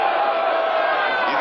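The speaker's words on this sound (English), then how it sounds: "You can hear the crowd go" A large football stadium crowd at a 1981 Raiders–Chiefs game roars in a dense, sustained wash of cheering that stays loud and unbroken for the whole moment.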